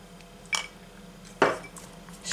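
A spoon strikes a bowl twice with short, bright clinks while an ayurvedic face mask is mixed, and a faint scraping tail follows each knock.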